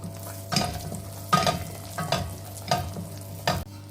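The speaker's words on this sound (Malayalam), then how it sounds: "കാഷ്യൂനട്ട് ഇട്ട് കൊടുക്കാം." Cashew nuts and raisins frying in melted butter in a pan, with a steady sizzle and several bursts of stirring scrapes at a regular pace, close up and with no voices.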